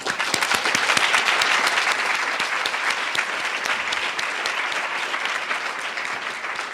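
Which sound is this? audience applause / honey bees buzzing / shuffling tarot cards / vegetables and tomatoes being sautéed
audience applause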